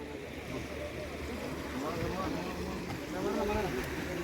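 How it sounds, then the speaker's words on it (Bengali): A crowded boat carrying people and motorbikes moves slowly across the Damodar River, giving a low steady rumble mixed with water wash and wind buffeting, with voices talking faintly underneath. "এই দেখুন নৌকা আস্তে আস্তে এগোচ্ছে অন্যদিকে।"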